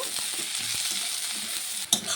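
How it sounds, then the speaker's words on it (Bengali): Chopped onions fry in hot oil tempered with nigella seeds for a bhola fish curry, giving a steady close sizzle with light stirring scrapes and a sharp clink near the end. "পেঁয়াজটাকে একটু ভেজে নেব"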